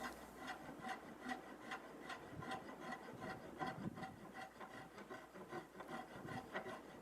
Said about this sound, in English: Again, with the round file, just working on the shape of the volute.